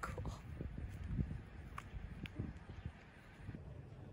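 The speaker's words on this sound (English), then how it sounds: "The horses have found our campsite." Horses' hooves clip-clop in uneven steps close by on the ground at a campsite in a Delaware state park, with wind noise and some faint voices in the background.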